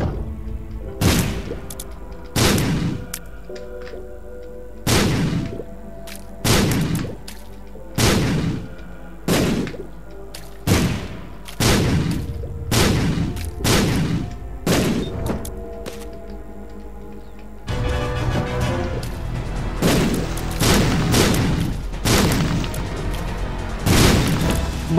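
Bomb blasts go off one after another in Binding of Isaac, loud booming thuds at a steady rhythm, roughly a dozen, followed by a denser stretch of crashing noise.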